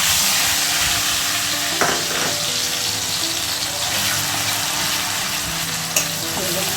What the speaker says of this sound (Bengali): চলো এবার তেলের মধ্যে এই যে পেস্ট করে রাখা মশলাটা দেওয়া যাক